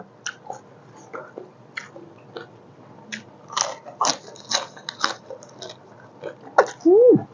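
Cos lettuce is bitten and crunched up close, with crisp, irregular crunches that grow denser midway, and a short voiced hum at the end.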